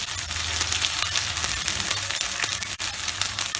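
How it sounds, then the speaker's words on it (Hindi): Garlic-ginger paste frying in a pan for a raw banana curry: a steady, loud, close sizzle that continues without a break, with faint stirring underneath. "थोड़ा सा हल्का सा इसको भी लहसुन अदरक का पेस्ट को भून लेंगे"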